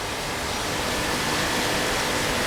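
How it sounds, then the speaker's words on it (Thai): Small waterfall at a shop, a constant dense rushing hiss of falling water, close and even, no voices. "น้ำตกเล็กพอประมาณนะครับ"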